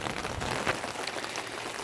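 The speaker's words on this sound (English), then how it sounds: "watching this rainstorm come in" Steady rain from a Central Texas rainstorm drumming on a chicken coop tarp, a dense, even hiss of drops that continues without pause.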